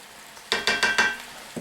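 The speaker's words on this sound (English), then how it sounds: "I let it sizzle until I start seeing a little bit of browning on everything." Sausage and vegetables sizzle in a pot for potato soup, with a few sharp stirring scrapes and bursts of frying hiss over a quiet background.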